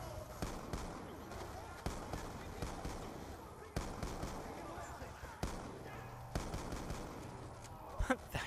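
Shotgun fire in a first-person shooter on the Wii U, a string of sharp blasts spaced a second or two apart over busy game noise and a talking voice.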